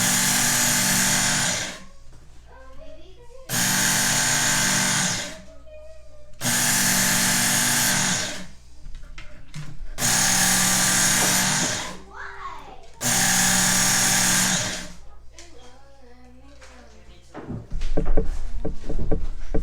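An electric knife sharpener grinds a kitchen knife in five loud, close bursts of a few seconds each, separated by short pauses with quiet voices, followed by rustling handling noise at the end.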